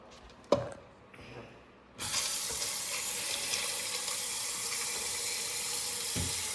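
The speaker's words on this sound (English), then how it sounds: "then you have to fill it with water." Tap water gushes into a pasta pot in a home kitchen after a couple of sharp clanks, then a steady rushing stream that stays loud and even until a final knock.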